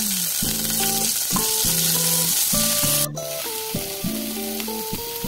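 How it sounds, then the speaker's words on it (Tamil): Onion and garlic sauté in a pan for a tomato chutney, giving a steady bright sizzle with occasional stirring. A melodic tune plays over it throughout. "எல்லாத்தையும் போட்டதுக்கு அப்புறமா நம்ம நல்லா வதக்கி விட்டுடலாம்"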